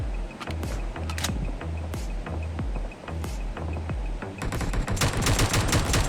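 Bursts of AKM automatic fire in a battle royale shooter game, several rapid volleys separated by short pauses, with a dense sustained barrage near the end, loud and close.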